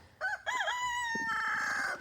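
A rooster crows once, loud and close, the long drawn-out call rising and then holding before fading, with faint clucking of chickens underneath.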